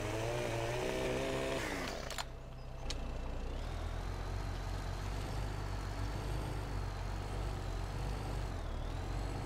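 A chainsaw cuts a tree while clearing forest in Farming Simulator 17. A loud, steady, droning engine whine runs throughout, with a sharp clunk about two seconds in and a brief shift in pitch near the end.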